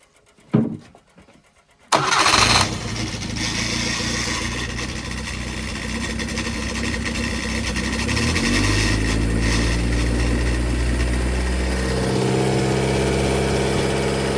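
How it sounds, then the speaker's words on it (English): A brand-new engine on a dyno being run in fires up after a short starter crank, then settles into a steady, loud, even idle with a faint drive-shaft whine, heard alone without talk. "I'll give you a quick fire up"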